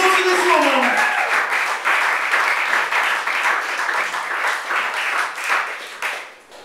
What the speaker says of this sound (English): Round of applause for this woman.